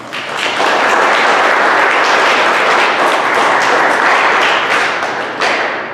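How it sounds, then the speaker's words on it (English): A loud, sustained round of applause from the audience at a 7th grade promotion ceremony, dense clapping from many people that swells in quickly and holds strong for several seconds before easing off. "So let's give a round of applause for this seminar."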